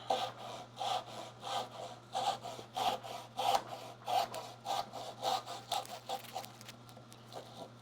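A hand saw rasps through wood cutting a dovetail joint in steady back-and-forth strokes, about a dozen even pulls with a soft scratchy texture, close up and alone.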